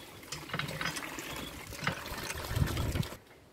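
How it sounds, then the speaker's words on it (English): Water being pumped for bathing at a campus guest stay: a steady, close gushing and splashing flow with faint mechanical rattling, running for about three seconds and then cutting off abruptly. "Please ensure you're pumping the water."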